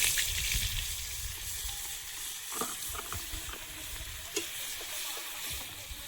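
Oil sizzling in a kadai, a continuous close hiss with a low rumble at the start and a few scraping clinks of a utensil, no voices.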